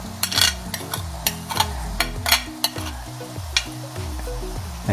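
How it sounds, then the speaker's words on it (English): Twenty-five grams of garlic frying in a pan in a commercial kitchen for chicken lollipop, a steady sizzle with repeated stirring scrapes, under a low tonal background music loop. "So now I'm gonna add in the garlic, 25 grams of garlic"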